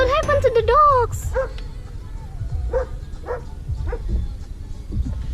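Dogs near Duden Waterfall in Antalya give a whining yelp and a few scattered barks, mixed with people talking and outdoor background noise.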